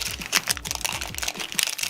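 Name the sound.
plastic wrapper of trading card pack crackling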